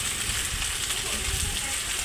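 Ingredients sizzle and crackle as they are stirred and sautéed in a hot pan, a steady close frying hiss with faint stirring scrapes.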